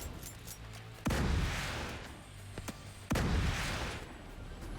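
Mortar fire in the video game Dark Hours, two heavy booming impacts a couple of seconds apart, each with a rolling decay, over quiet game ambience.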